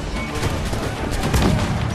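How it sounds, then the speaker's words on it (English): Dense, rapid gunfire crackles loudly in Assassin's Creed IV Black Flag, a continuous burst of overlapping shots with no voices. "Hey, no shooting at my goddamn crew."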